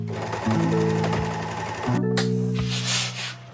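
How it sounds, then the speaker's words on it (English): An overlocker runs along the side edges of a dress in two steady bursts, a loud, close, even motor whir with a brief pause between seams. "With the front of the dress facing up, overlock the side edges."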